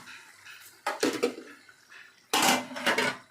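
A metal lid set onto a cooking pot of chicken curry: two bursts of clanking and rattling, the first around the one-second mark and a louder, longer one near the end, with quiet kitchen room sound between.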